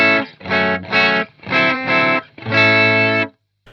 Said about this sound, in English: Now the Marshall is set kind of on the verge of breakup